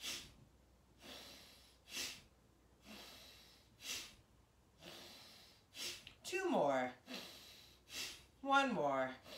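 A group does deep yoga breathing in a slow, even rhythm of audible inhales and exhales, with sharper snorting breaths near the end.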